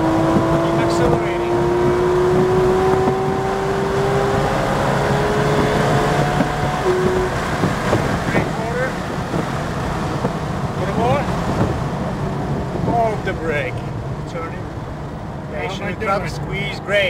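A Porsche 911 GT3 RS accelerates around the New Jersey Motorsports Park circuit, its engine droning loud and close with rising pitch sweeps, while an instructor talks over it throughout.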